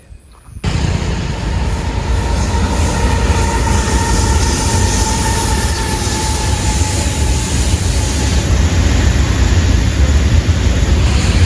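A BCNA goods train rolls past a closed railway level crossing near Chandera in rain, a loud continuous rumble of wagons with clattering wheels and a thin high squeal near the end.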